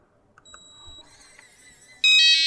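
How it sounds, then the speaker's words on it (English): Loud, shrill electronic beeping from an RV keypad door lock bursts in near the end after a few soft tones and quiet handling noise, no talking. "Definitely need to turn that beep off."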